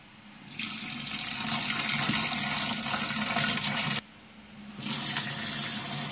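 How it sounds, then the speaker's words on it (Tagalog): Tap water runs steadily over peanuts being washed in a sink, a broad close rush that cuts off briefly near the end and then resumes. "Hugasan natin ang peanuts."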